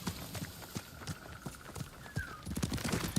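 Hooves of the rare deluxe-edition horse in Ghost of Tsushima clop in a quick, steady gallop, close and fairly loud, with a brief rising whinny-like tone and busier hoof strikes near the end.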